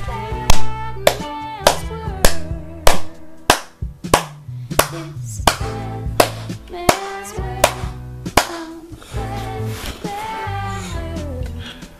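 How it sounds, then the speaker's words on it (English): Hands clap in a steady, loud, close series of sharp claps with music underneath. "Everybody stand up and clap your hands."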